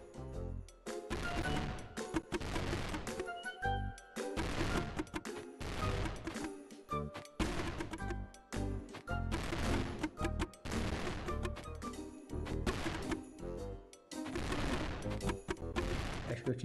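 Cannon blasts in the Cat Escape video game, a string of loud booming shots and crashes repeating every second or so over a game soundtrack, with brief pauses between bursts.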